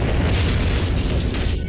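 An atomic bomb explosion heard as a deep, sustained roaring boom, dense and loud across the whole span with no talk.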